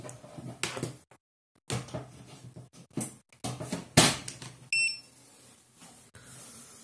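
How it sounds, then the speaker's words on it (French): A Sonoff 433 MHz remote receiver gives a short, high electronic beep once as it is plugged back in, amid clicks, knocks and handling noises, with bursts of rustling around it. "On a entendu un petit bip."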